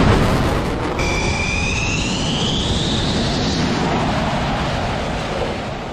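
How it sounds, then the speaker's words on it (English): A jet airplane roars steadily overhead, a broad loud rumble with a rising whine that fades slowly as it passes. "it's pretty quiet other than the airplanes that fly like directly above"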